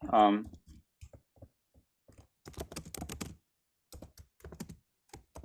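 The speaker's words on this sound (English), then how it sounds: "I'm hearing like somebody typing, so if you can mute yourself" Keyboard typing on a computer during an online lecture session, heard as scattered soft clicks and short bursts of keystrokes, fairly faint, with a brief louder tonal sound at the start.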